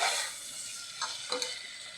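Peas and potatoes being sautéed in a pan, a quiet sizzle that fades after a brief louder start, with two short scraping stirs toward the end and no voices.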